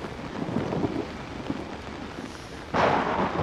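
Rain and thunder in the horror video game Outlast: a steady wash of falling rain with low rumbling, then a sudden louder burst of brighter noise near the end.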